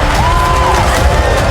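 A crowd cheers and whoops steadily at high, unbroken volume, with a single rising and falling whistle-like voice standing out above the dense roar.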